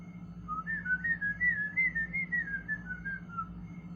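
A person whistles a wavering, continuous tune on stage for about four seconds, clear and fairly close over a low steady hum.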